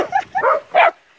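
A dog at a county animal shelter in Mississippi gives three short, close, fairly loud vocal bursts, yips and whimpering barks, with brief gaps between them.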